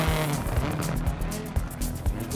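A rally car drifting on a DiRT video game stage, its engine droning loud and close while tires scrabble and slide over loose ground, with a few rhythmic thumps from the surface and a faint voice.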